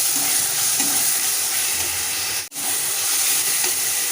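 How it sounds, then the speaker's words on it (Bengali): Garlic paste frying in a pan for a Bengali chicken and potato curry, a steady loud sizzle and hiss with stirring, briefly cut off midway before resuming. "আমি রসুন বাটাটা এখন দিয়ে দিচ্ছি, দিয়ে হালকা নাড়াচাড়া করে নেব"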